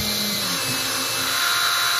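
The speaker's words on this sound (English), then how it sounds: "A bit of drilling here." A power drill runs steadily during a van build, producing a loud, continuous whine that holds for the whole moment and cuts off abruptly at the end.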